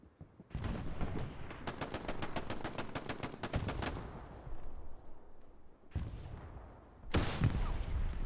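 A rooftop machine gun fires in the video game Hell Let Loose on Utah Beach, with rapid bursts of loud rattling shots, pauses between, and a final burst near the end.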